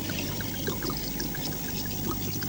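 Red wine pours steadily into a cooking pot with a soft, continuous splashing trickle, fairly quiet and unbroken, with no voices.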